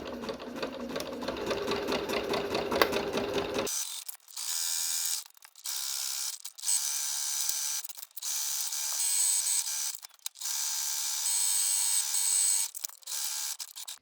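A sewing machine runs a straight stitch around fabric for a freezer bag, first in one long continuous whirring run, then in a series of short bursts separated by brief pauses, close and mechanical.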